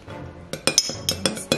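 An at-home cocktail being stirred in a glass gives a run of bright, close clinks, about six or seven irregular strikes of spoon against glass over a quiet background.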